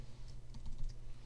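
Quiet, rapid tapping of keys on a computer keyboard, a short burst of light clicks close by over a low background hum.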